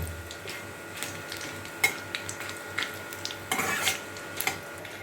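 Spices for moong dal khichuri (bay leaf, dried red chilli, cumin and garam masala) fry in hot oil in a pan, giving a soft, steady sizzle broken by occasional metallic clinks of a stirring utensil, with no talking.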